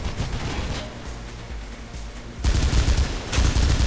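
Rapid bursts of G36C assault rifle fire in the game Mirror's Edge, with a stretch of sustained automatic shots followed by louder, denser bursts near the end, no talking.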